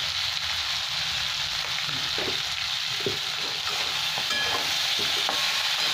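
Vegetables and native tomatoes with Kashmiri chilli powder fry for a Bengali fish curry, a steady close sizzle under intermittent spatula scrapes and stirring clinks, no voices.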